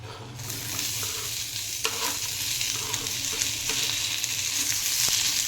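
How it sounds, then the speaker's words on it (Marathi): Chopped onion frying in a pan, a steady close sizzle with scraping stir strokes of a spoon at irregular intervals, no voices. "कांदा आता व्यवस्थित भाजून घेते मी"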